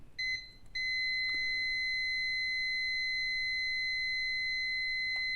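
Multimeter beeping continuously in continuity mode on a shorted 12 V line of a circuit board, a steady high electronic tone that cuts in after a couple of brief chirps and holds unbroken.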